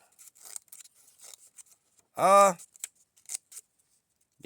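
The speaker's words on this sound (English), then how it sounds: "Do the scissors do anything? If the scissors are decent on this and they actually cut" Scissors from an Ozark Trail gift set snip, giving a series of small crisp cuts scattered through the moment, close and quiet, with someone briefly speaking in the middle.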